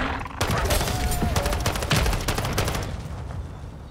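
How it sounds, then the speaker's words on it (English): Mortar support strike in Modern Warfare Zombies: a loud, continuous barrage of rapid blasts and crackling impacts that begins abruptly and rumbles on, tapering slightly toward the end. "Mortar support incoming."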